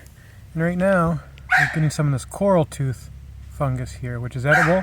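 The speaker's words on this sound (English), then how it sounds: "Sorry about the dog." A dog barks and yips in the background of an outdoor woodland spot where coral tooth fungus grows on a rotten tree, its sounds partly mixed with someone talking steadily in the foreground.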